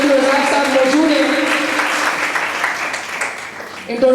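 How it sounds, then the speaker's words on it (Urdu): An audience at an inter-school speech competition in Karachi applauds the judging panel, a burst of clapping from the crowd under a voice, tapering slightly toward the end. "تو میں چاہوں گا بھرپور طریقے سے تالیاں ہونی چاہیے ہمارے ججمنٹ پینل کے لیے۔"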